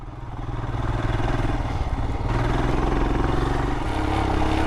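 A 2022 Royal Enfield Himalayan motorcycle climbs a sandy desert slope, its single-cylinder engine thumping in a steady, loud, close pulse that rises as it pulls, then shifts and keeps chugging.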